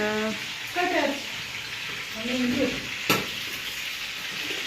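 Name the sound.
chicken cooking in a frying pan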